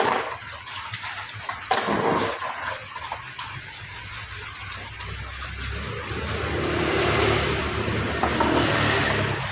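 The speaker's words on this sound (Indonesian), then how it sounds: "Langkah awal ya, kita cuci dulu diolit. Kita bersihkan dulu diolitnya." Dolomite aquarium filter media being washed, with mud and soil still clinging to it, under steady gushing, splashing water that runs continuously and grows somewhat louder toward the end.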